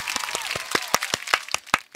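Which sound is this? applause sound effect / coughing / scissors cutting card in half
applause sound effect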